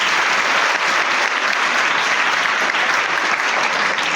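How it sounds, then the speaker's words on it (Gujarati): An audience applauds a third-grade student during a maths session, with dense, steady clapping that holds at an even level for about four seconds and no voices over it. "તાળી પાડ દો એકવાર"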